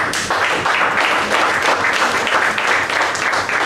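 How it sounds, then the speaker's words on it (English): A room of meeting attendees at the end of a Toastmasters-style club session breaks into a loud, sustained round of applause, dense clapping continuing steadily throughout with no talking. "So give a big round of applause to them"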